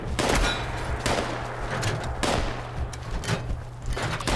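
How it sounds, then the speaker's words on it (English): Harpoon gun in Fallout 76, the non-explosive Ghoul Slayer's variant, firing and reloading: loud repeated percussive thumps roughly once a second over a steady low hum, with no talk. "So you can see how long it takes to reload one harpoon"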